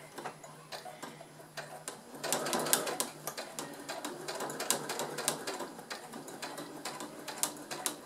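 Straight-stitch seam being sewn on a home sewing machine through fabric for a multi-pocket pouch, a rapid ticking mechanical clatter that runs steadily and fairly close after a quieter start, with no talking.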